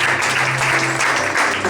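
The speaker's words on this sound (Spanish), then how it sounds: "Denle un fuerte aplauso al Creador del universo" A church congregation breaks into loud, dense applause during worship, sustained and close for the whole stretch with faint voices and a low musical drone beneath.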